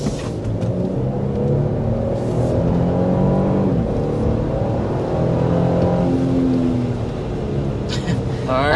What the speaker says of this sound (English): That was an acceleration up to 60 miles per hour.